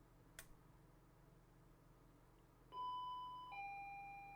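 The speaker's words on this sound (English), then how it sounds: "I wake up to the sound of the doorbell." A doorbell at night gives a two-note ding-dong, loud against a near-silent room, the second chime lingering as it fades.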